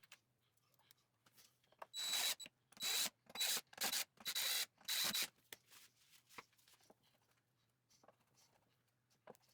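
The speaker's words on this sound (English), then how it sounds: "I had to clean up those holes and resand them a little bit" Several short rasping bursts of sandpaper rubbing over freshly drilled screw holes in a wooden 2x4 bench with still-tacky finish, each stroke loud and close, followed by faint shuffling handling noise.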